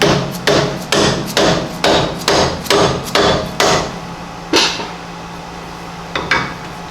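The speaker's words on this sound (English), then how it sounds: "I'll take a soft hammer and hammer on this wrench." Soft-faced hammer striking a wrench on a four-jaw chuck of a Monarch Merit lathe: a rapid series of about nine sharp, close knocks, then two separate blows after short pauses, with no talk.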